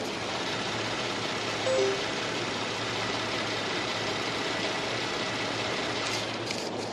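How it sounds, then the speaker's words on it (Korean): A Kia K9 3.3 GDI car engine idles with a steady, smooth low rumble, quiet and even throughout, with no talking. "바로 엔진 소리 한번 들려드릴게요."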